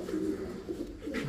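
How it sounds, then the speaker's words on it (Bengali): A Pakistani Golden pigeon gives a short, low cooing call close by, faint and soft, over a quiet background. "মাশাআল্লাহ, নিশ্চিত পাকিস্তানি কবুতর, গোল্ডেন"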